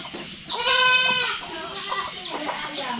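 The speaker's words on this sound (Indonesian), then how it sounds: "Kambing kita itu kalau dilepas itu apa suaranya bunyi terus." A goat on a farm bleats in a loud, wavering cry close by, followed by quieter bleats and other farmyard animal calls in the background.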